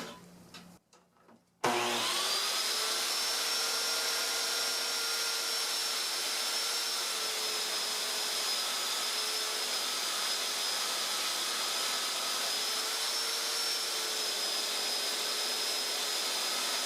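A saw blade cutting a wooden desk piece: after a brief quiet moment, a loud, steady whining drone starts abruptly and holds evenly to the end, close and continuous.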